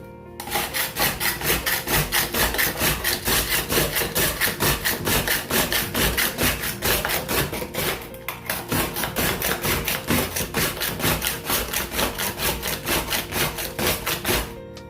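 Ice is scraped by hand for a raspado with pineapple syrup, a loud, close, rhythmic rasping of quick repeated strokes that runs steadily with one brief pause partway through.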